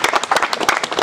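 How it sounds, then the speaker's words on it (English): Audience clapping at an inauguration ceremony for an integrity group in Delta State, a brief burst of dense, irregular hand claps close by. "If you want to clap, please clap."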